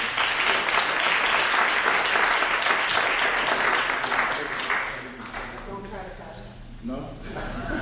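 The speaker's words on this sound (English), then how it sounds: "I'm going to give her a round of applause." An audience at a funk symposium keynote in Dayton, Ohio gives loud, sustained applause that fades after about five seconds as a speaker's voice takes over.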